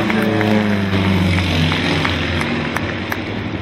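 An aerobatic airplane climbs to the right of the grandstand at Twin Ring Motegi, its engine a steady, loud drone that holds throughout with no voices.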